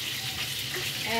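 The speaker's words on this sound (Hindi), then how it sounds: "हम इसे पनीर मिक्स करेंगे, 5 मिनट और मसाला भून लेते अच्छे से" Paneer masala sizzles and is stirred in a pan, a close continuous fry with light scraping and no talk.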